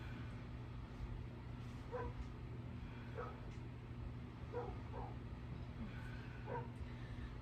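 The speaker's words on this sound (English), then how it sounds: "my neighbor's dog is having a barking fest outside" A neighbor's dog barks outdoors in scattered short bursts, faint and distant over a steady background hum.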